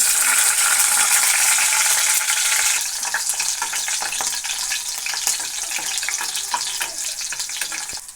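Green chillies hit hot oil in a wok, a loud bright crackling sizzle at first that settles into steadier spattering frying with faint stirring.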